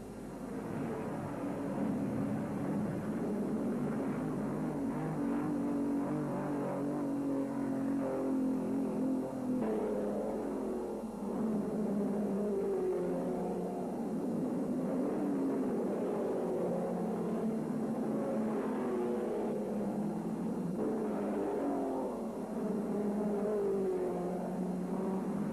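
Racing cars lap a dry circuit during 1966 practice at the Sydney Royal, with a steady stream of distant engine drone and whir that swells faintly as cars pass, continuous and moderately quiet throughout.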